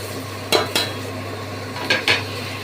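A large batch of chopped onion goes into butter in a pan over low gas: a few sharp spatula taps and scrapes against the pan, spaced apart, over a steady low hum. No one speaks.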